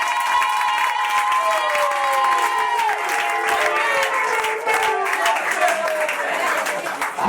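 A church congregation applauds and shouts acclamations to celebrate receiving a child, a sustained wash of loud clapping mixed with voices cheering and calling out together.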